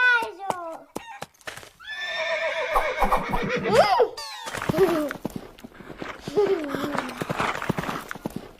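A horse whinnies loudly with a long, wavering call, followed by further neighs and snorts, while a voice speaks between the calls.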